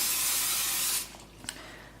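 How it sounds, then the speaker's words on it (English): Pam cooking spray hisses into a 13x9 casserole dish in one continuous close burst lasting about a second, then stops, followed by a couple of faint clicks. "I'm gonna give it a little spray with Pam"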